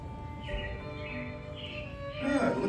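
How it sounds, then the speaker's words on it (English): Recorded robin birdsong plays during the Disney Carousel of Progress animatronic show, several soft chirping phrases over a quiet background, with a louder burst of sound near the end. "looks like the Robins are getting ready to celebrate Valentine's Day today"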